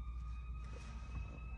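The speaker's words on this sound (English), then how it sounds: "I don't know if y'all can hear that siren that's happening right now." An emergency vehicle siren sounds outdoors, a steady, fairly faint wailing tone heard from a distance over low background rumble.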